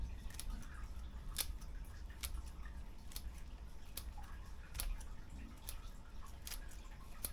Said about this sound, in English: These are actually a decent pair of shears.